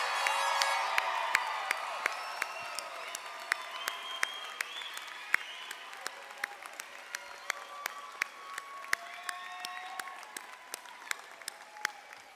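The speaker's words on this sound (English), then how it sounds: "Let's give them a round of applause" Sustained applause with cheers and whoops from families and friends honoring the University of Hawaii West Oahu Spring 2012 graduating class at commencement, steady and full throughout with scattered shouts rising above the clapping.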